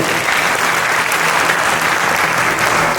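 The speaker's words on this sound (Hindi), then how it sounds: "इन सबके लिए एक बार जोरदार ताली हो जाएंगे उसको।" A large crowd claps loudly and continuously, a dense, even burst of applause.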